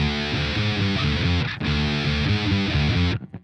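A loud, overdriven electric guitar plays a riff, continuous shifting notes with one brief break midway, unaccompanied, fading into scratchy string noise at the end.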